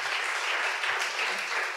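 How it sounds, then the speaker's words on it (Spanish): A church congregation claps together, a steady, dense wash of applause filling the room for the whole moment, fairly even in loudness with no voices standing out. "¿Cuántos aplauden al Señor?"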